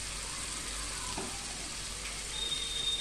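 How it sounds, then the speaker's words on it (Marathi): Chicken gravy sizzling in a hot pan after hot water goes in, a steady broadband frying hiss with a brief bubbling splash partway through, fairly loud and close with no voices. "त्याच्यात गरम पाणी घालून घेऊया"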